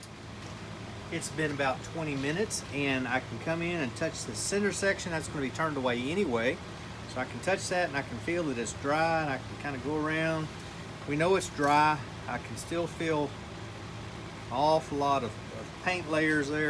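Steady low hum of an air cleaner fan running in a woodturning workshop, faint and continuous beneath someone talking close to the microphone.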